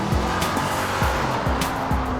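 A muscle car's engine roars as it accelerates hard, the revs climbing and then dropping again with each gear change, loud and close, with some tire squeal mixed in.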